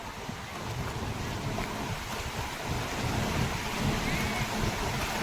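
Sea waves wash continuously onto the shore at Juhu beach in Mumbai, a steady broadband roar of surf mixed with wind, close and fairly loud throughout, with no clear voices.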